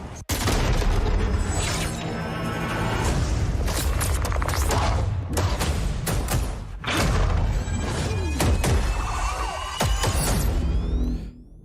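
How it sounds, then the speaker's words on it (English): A breaching explosion at a bridge entry in a video game trailer: loud booms and thuds with crashing debris and mechanical clatter, dense and continuous throughout, with no voices. "This is Shadow 1 going explosive on bridge entry."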